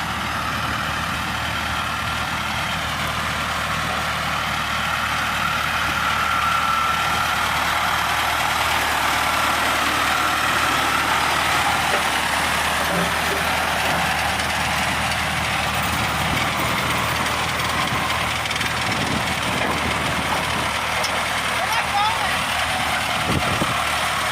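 A Belarus 400AN tractor engine runs steadily at a constant loud drone throughout, with broadband mechanical noise and occasional clunks, and people talk faintly in the background.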